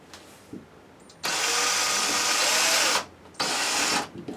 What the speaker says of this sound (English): we're just going to put a slight little hole in the beam for the screw to screw into